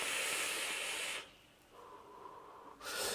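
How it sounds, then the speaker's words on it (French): A long breathy exhale pushes out a cloud of kiwi-flavoured e-cigarette vapour, a close airy hiss that fades to quiet, then a second sharp puff of breath at the end. "On fait toujours une belle vapeur."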